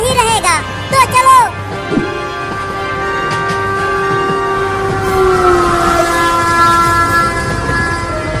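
Cartoon train running, a steady rumbling rail roll with a long sustained whistle-like horn tone over it, opening with a few brief animated voice exclamations before the train noise takes over.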